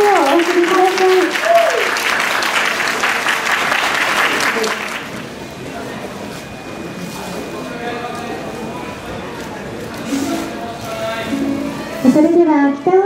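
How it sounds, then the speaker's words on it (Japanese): A crowd applauds at a Kita-Osaka Kyuko 9000-series launch ceremony as a bouquet goes to the train driver. Brisk clapping fills the first five seconds and then fades, followed by a steady tone, scattered sounds and talk near the end. "どうぞ皆様温かな拍手をお送りください。"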